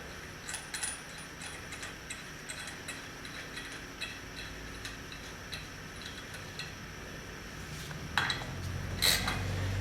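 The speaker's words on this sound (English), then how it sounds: "use your 1/2" socket, tighten up the driven clutch." Ratchet clicks of a 1/2 inch socket wrench tightening the driven clutch on a Polaris ATV, a run of quiet metallic clicks through the clip, with a louder clank near the end.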